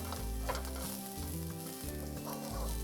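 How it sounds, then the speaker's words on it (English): Garlic cloves and onions fry in oil in a pan, giving a continuous close sizzle with stirring scrapes and no voices. "4 medium-sized garlic cloves, and we're going to stir that in, and we're going to get a nice roast on that too with the oil left in the pan"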